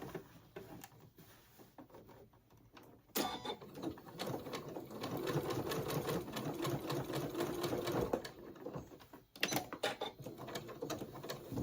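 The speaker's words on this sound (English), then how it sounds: "you're going to come back at your sewing machine, and where your little hole is, you're going to do an edge stitch" A sewing machine edge-stitches a fabric bowl cozy with a steady, close rattling hum. It runs in long bursts with a few brief pauses.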